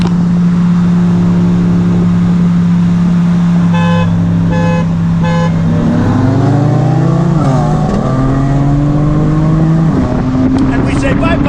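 A Mercedes-AMG C63 drives past close and loud, its engine note rising as it accelerates through the gears, with a horn toot in the middle and people talking over it.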